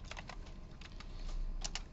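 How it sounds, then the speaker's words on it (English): Typing on a computer keyboard: quick, light clusters of key clicks in irregular bursts, close but quiet, with no talking. "I don't feel like typing more than that."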